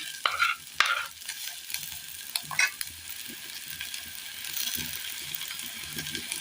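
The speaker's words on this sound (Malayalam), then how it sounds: "ഇനി ഇതൊന്നൊരു സൈഡിലേക്ക് നമുക്ക് ഒതുക്കി കൊടുക്കാം." Peeled, chopped tomatoes frying in a pan get pushed aside with a spatula, making sharp scraping clicks over a quiet, steady sizzle, close up and without talk.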